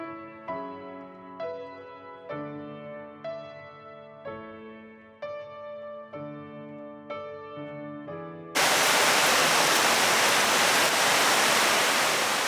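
Gentle melodic notes play in sequence, then abruptly give way to the steady, loud roar of Diprung waterfall in Khotang, Nepal, rushing without pause.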